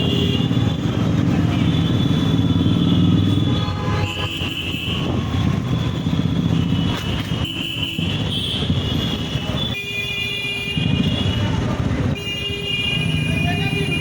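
Motorcycle ride through busy Park Street at night on 25 December at around 25 speed, with a steady engine rumble under dense traffic noise, horns tooting at intervals and someone talking over it.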